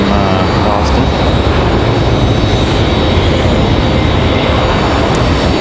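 A steady, loud roar of an Airbus A320 jet engine at an airport, sustained throughout with a broad rumble, while a voice talks over it.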